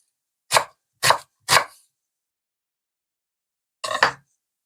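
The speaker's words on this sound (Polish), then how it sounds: "Cebulę siekam na dość grubą kostkę." A knife chopping an onion into coarse dice on a board: three quick sharp chops in a row, a pause, then a doubled chop, close and crisp with silence between.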